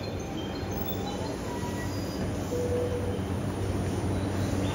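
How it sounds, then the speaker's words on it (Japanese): A Sobu Line local train rolls into Shinjuku station, a steady rumbling wash of wheels and platform noise with faint squeals, moderately loud and continuous. "千葉行きの電車が到着となります。"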